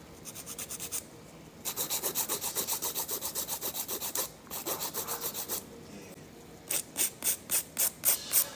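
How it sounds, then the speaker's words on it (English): A nail file rasps across acrylic nails in quick, even back-and-forth strokes, close and fairly quiet, coming in bursts separated by short pauses, with a faster run of strokes near the end. "Making sure you're filing underneath,"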